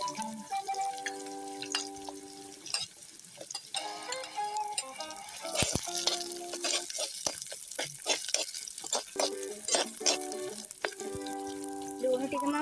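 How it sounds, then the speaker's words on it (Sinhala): Garlic fries in oil in a pan for Sri Lankan chicken curry, giving a steady close sizzle with crackles and pops, and a voice speaks briefly over it. "සුදු ලුණු ටික දැන් ටෙම්පරාදු වීගෙන එන්නේ"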